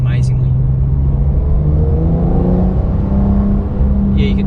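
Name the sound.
Porsche 992 Carrera S engine revving while driving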